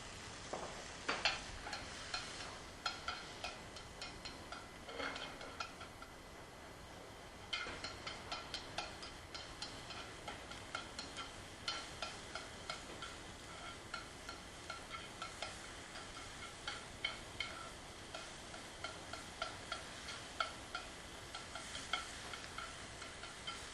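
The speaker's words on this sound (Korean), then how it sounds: "당근도 색이 선명해질 때까지 이렇게 볶아주세요" Carrots stir-fried in a little cooking oil in a pan: a soft continuous sizzle under repeated close scrapes and taps of a utensil, keeping an uneven rhythm throughout.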